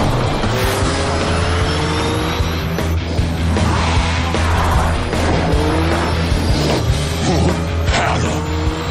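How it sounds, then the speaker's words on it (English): Cyber Racer's racing engine in a cartoon gives a loud, continuous high-revving roar, with tire squeals and crashing effects on top, heard close and steady throughout. "Listen! That engine! It's Cyber Racer!"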